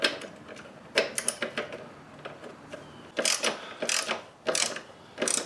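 A ratchet clicks close by as pannier rack bolts are tightened, in about eight short bursts of rapid clicking separated by brief pauses.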